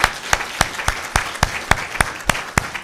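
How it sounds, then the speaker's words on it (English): Slow, rhythmic hand claps ring out about three times a second, sharp and close, over a softer bed of scattered clapping from a small expo audience. "give him a special round of applause"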